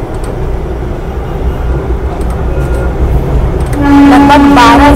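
Darjeeling Himalayan Railway toy train on the run to New Jalpaiguri, a steady close rumble of wheels and carriages with a loud horn-like whistle sounding near the end.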